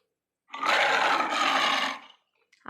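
A lion's roar from a children's jungle song, one sustained loud roar of about a second and a half, rising and fading, standing alone with no talk.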